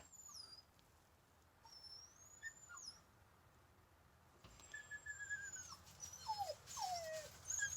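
A dog whimpering and whining indoors in a garage workshop during a spark plug change on an REO, with thin high whines rising and falling over several seconds, then a run of sharper, louder cries toward the end.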